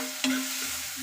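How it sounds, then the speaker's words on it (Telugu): Onions stirred in a hot pan while frying for a home-style chicken curry, a brief close scrape of the spoon over a steady background sizzle, with no voices. "బాగా కలుపుకోవాలి ఉల్లిగడ్డ."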